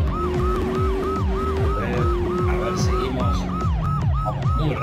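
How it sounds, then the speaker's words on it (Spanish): A fire truck siren wails in a fast, repeating electronic yelp inside a firefighter video game, loud and steady over engine rumble, with faint talk underneath. "Muy rápido, porque vamos con la sirena."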